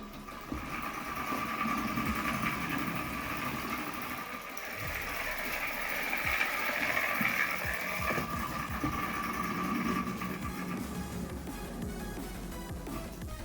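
A small homemade car driven by a solenoid engine on a 3S battery runs with a fast, buzzy mechanical chatter, steady and fairly close, rising slightly midway, with no talking.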